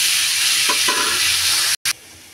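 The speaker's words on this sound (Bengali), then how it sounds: "আলুগুলি ভেজে নিব।" Potato pieces fry in hot oil with a loud, steady crackling sizzle, and a brief stir breaks in partway through.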